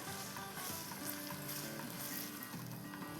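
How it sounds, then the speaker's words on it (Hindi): Crushed garlic and ginger sauté in hot oil for a restaurant-style chicken handi, giving a steady close sizzle with stirring sounds and no talk. "चले ये सौटे हो रहा है"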